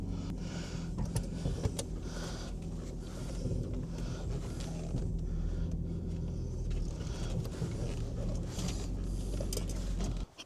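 A tractor engine runs steadily after starting, giving a continuous low rumble with clattering and mechanical knocks on top, close by, with no talking.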